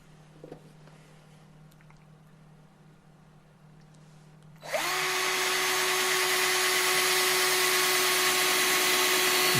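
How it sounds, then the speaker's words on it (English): A power drill with a nail used as its bit spins up into a wooden birdhouse after quiet handling noises, then whines steadily and loudly for several seconds. "I'm going to drill one hole and nail one hole"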